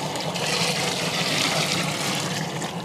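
Water pours steadily into a pot holding a whole large fish for curry, a continuous close rushing splash over about three seconds with no voices.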